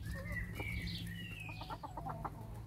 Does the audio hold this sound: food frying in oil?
no